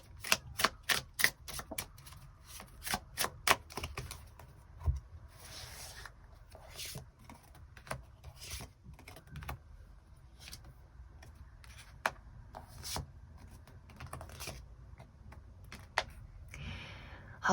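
Tarot cards are shuffled and drawn, with a rapid run of crisp riffling flicks at first, then scattered softer slides and taps of the cards up close.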